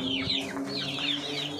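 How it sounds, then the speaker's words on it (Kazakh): Hungry chicks and hens clucking and chirping together in a farmyard, a steady close chorus of overlapping high peeps and low clucks with no talking. "Балапандарым қарны ашып отыр"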